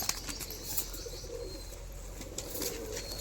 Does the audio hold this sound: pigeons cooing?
yes